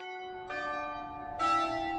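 Church bells ring out in two resonant strikes, each blooming into a long sustained hum, heard from directly beneath the bells in Robe Street Park, New Plymouth, close and clear with no talking.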